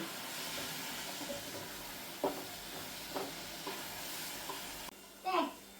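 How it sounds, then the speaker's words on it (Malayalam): Coconut, cardamom and cumin mixture stirred in a pan over steady frying hiss, with a few distinct scrapes and knocks of the spoon, close and fairly quiet. "എല്ലാം കൂടി നമുക്കൊന്ന് ഇളക്കി ഒന്ന് കൂട്ടാം"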